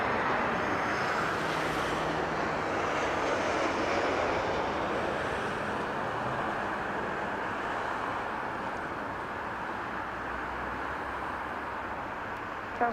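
A Southwest Airlines plane arrives at Las Vegas Harry Reid International Airport, heard as a steady, broad, distant jet roar that holds evenly and slowly fades slightly.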